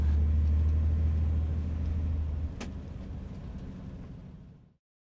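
A car engine hums at high revs with a loud, steady low drone that drops in pitch midway, then fades out to silence, with no voices.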